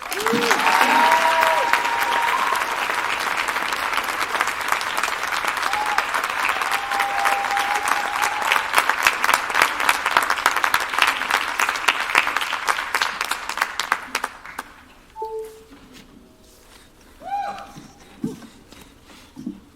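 Loud, dense applause from a commencement audience welcoming a student speaker, sustained for about fourteen seconds before fading into scattered claps and a few voices.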